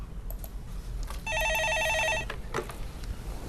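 A telephone rings with an incoming call to a stock-market phone-in show, giving one bright, warbling trill lasting about a second against low background hum, with no voices.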